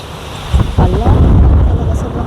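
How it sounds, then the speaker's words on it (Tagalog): Heavy wind buffets the microphone in low rumbling gusts, with a voice faintly mixed into the roar. "Ala, talaga sobrang mahangin talaga dito ngayon"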